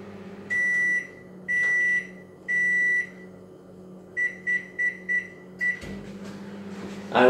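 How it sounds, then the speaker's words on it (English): A kitchen microwave oven hums steadily while warming dough for focaccia, giving three long beeps and then five short beeps, followed by a clatter near the end. "And then I put that in the microwave."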